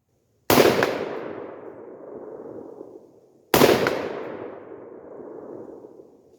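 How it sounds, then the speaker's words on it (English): Two loud rifle shots from a Bear Creek Arsenal 607N 416R 16-inch complete upper, fired at a target on an outdoor range, each a sharp crack about three seconds apart with a long echoing decay. "We're just going to put a few shots right on target down here on our 12x20"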